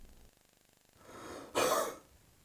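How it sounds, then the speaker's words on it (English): A single gentle huff cough as part of a breathing exercise, coming as one short breathy burst after a quiet inhale, close and clear with no talking. "take a deep breath in, then let a gentle huff cough out"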